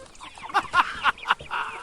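Chickens cluck close by in a quick series of five or six short, sharp calls, with no talking.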